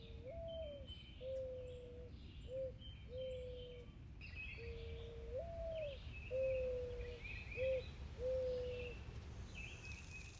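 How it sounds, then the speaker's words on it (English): A mourning dove coos softly in two repeated series of mellow, drawn-out notes, the first note swelling and the rest shorter, against a quiet outdoor background with faint chirps from other birds. "Mourning dove is a very good description of this bird's vocalization."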